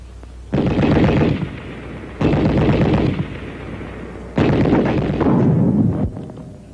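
Anti-tank rifle grenades striking a sandbagged machine gun nest: three loud, close blasts in a row, each a heavy boom with a rumbling tail that fades before the next.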